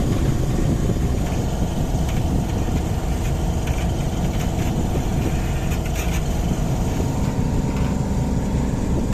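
A sailboat motoring on the Solent under engine power gives a steady, continuous engine drone with wind and water noise, constant in level from start to end and without speech.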